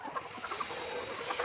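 Chickens cluck softly and steadily on a chicken farm. The clucking is mixed into a busy, noisy background hubbub, with no voices.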